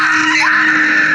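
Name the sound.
woman screaming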